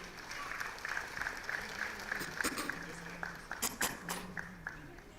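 Audience applause at the Hope Qatar Centre annual day, sustained clapping that swells with sharper bursts toward the middle and tails off, with faint talk underneath.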